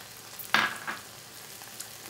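Diced tomatoes hit a pan of frying green pepper with a sudden close splash and hiss, followed by a smaller second burst and a faint tail of sizzling, no talk.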